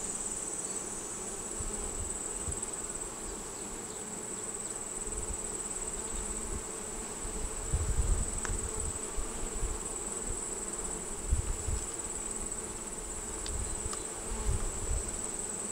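A dense, steady roar of honeybees fills an opened hive during an inspection of a hive converted from five to ten frames. The drone holds constant throughout, close and loud, with occasional lower rustles beneath and no talking.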